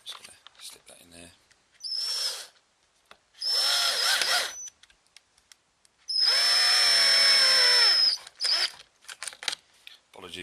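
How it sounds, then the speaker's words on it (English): A power drill whines in three separate bursts, short then longer, its pitch rising as it spins up, with clicks and handling noises between. "one-handed drilling it's not easy"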